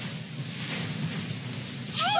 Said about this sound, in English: Why is there thunder again?